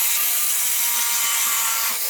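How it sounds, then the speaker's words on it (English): A jigsaw cutting off an uneven edge of a wooden board, a loud, close, steady buzzing rasp of the reciprocating blade running continuously through the short stretch. "So I'm gonna do that with the jigsaw."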